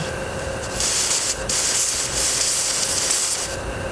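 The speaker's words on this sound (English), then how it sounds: "Looks like the pressure gauge area is blowing steam now, but the safety valve is very close to popping." Steam hisses steadily from around the pressure gauge of a model boiler under test, a loud continuous broadband rush with brief dips, no voices present.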